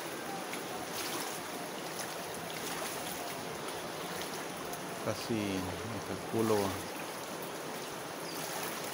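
Steady broadband rush of the Goascorán River at El Amatillo, on the Honduras–El Salvador border, throughout, with someone briefly speaking over it midway.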